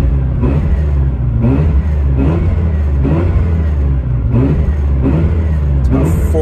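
A Mazda RX-7 rotary engine is revved repeatedly to around 5,000 RPM: about five rising and falling rev cycles in a steady rhythm, loud and close over a constant rumbling idle.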